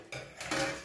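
A spoon stirs homemade lemon-scented laundry detergent in a metal pot, making two or three quick scraping clinks close by in under a second.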